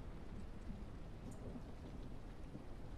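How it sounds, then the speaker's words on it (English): Steady rain falls in Ranch Simulator, a continuous soft hiss of drops with faint low rumbling beneath, heard alone at low volume. "It's raining."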